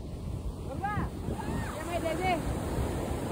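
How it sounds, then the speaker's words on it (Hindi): Sea waves wash onto the shore at Mubarak village beach near Karachi, a steady surf rush mixed with wind noise, heard under people's voices. "समंदर के किनारे बैठे हैं और पांव गीले,"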